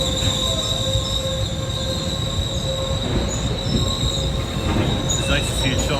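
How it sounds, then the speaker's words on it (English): A train pulls in with a steady, loud rumble and high, sustained wheel squeals ringing over it, continuous throughout with no voices. "We're going to get on this train"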